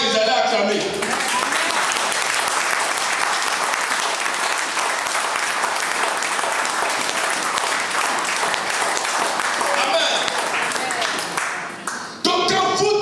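A church congregation at a prophet's 2018 visit in Martinique bursts into loud, sustained applause and cheering. The clapping fills the room for about eleven seconds, then fades as a voice returns briefly.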